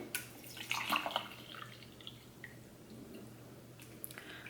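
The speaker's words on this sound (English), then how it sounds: "let's pour in our hot water" Hot water is poured over tea into a cup, giving soft, uneven splashing and trickling near the start, then thinning to faint drips over a low background hum.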